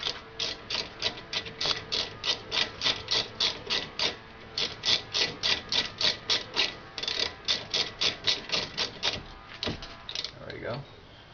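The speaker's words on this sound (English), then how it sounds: "You can take your socket wrench and use it to tighten it up." A socket wrench ratchet tightens a bolt on the rear brake of a Pontiac Grand Prix with close, quick clicking strokes in even bursts, then pauses near the end as a metal part shifts.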